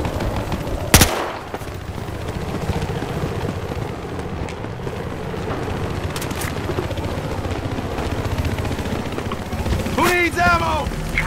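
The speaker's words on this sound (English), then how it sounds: "You see that chopper?" In a Battlefield Hardline match, a helicopter's rotor thrums steadily through the whole stretch, with a sharp burst of gunfire near the start and scattered shots and effects later, while players talk over the action.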